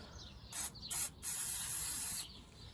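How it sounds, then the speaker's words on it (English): Penetrating oil is sprayed onto a pinch bolt nut on a 2014 Kia Sportage 2.0 CRDI, with two short hissing spurts followed by one longer continuous hiss, close and distinct. "First, some penetrating oil on the pinch bolt's nut."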